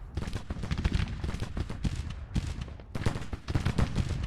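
Musket gunfire from Civil War skirmishers in Grand Tactician, rapid ragged volleys of crackling shots firing in irregular bursts with short pauses, mid-distance and fairly loud.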